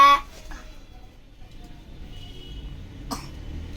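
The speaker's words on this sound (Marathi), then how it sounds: "खोकला येतोय" A child coughs indoors: one sharp cough at the start and another short burst near the end, with a faint quieter catch between them and near silence otherwise.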